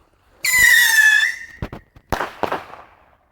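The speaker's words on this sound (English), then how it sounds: "we're out here messing around with a couple of these rockets" Whistling firework rockets launching outdoors, one long piercing descending whistle followed by sharp cracks and a pop, loud and close, with no talking.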